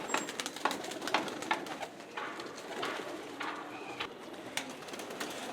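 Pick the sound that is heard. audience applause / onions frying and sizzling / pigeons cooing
pigeons cooing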